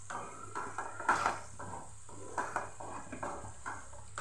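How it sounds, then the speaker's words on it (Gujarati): Sugar being stirred into garlic chutney in a pan, the spoon scraping and knocking against the metal in repeated strokes with a faint sizzle underneath, close and moderately loud with no voices. "ખાંડ સરસ મિક્સ થઈ જાય ત્યાં સુધી આપણે એને સાતડવાની છે"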